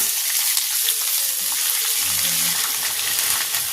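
Sliced kundru and potato frying in hot oil in a karai, a loud, continuous close sizzle with faint stirring touches underneath and no talk.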